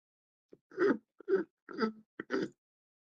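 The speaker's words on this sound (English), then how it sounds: "That was me scratching my throat with my throat." A person clears and scratches their throat four times in quick succession, close and fairly loud, each rasp preceded by a short catch of breath, in an otherwise quiet room.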